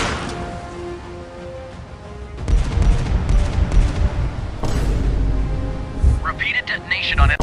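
Naval combat in the game Warship Mobile 2, with booming explosions and rumbling gunfire rolling under a synthetic announcer voice, heavy detonations building up in the middle and near the end.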